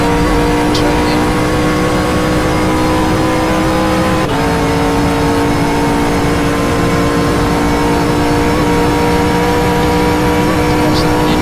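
Race car engine in the GTR 24h racing video game, a steady loud drone with layered harmonic whine holding nearly level throughout, with a brief dip near the middle as if shifting or braking.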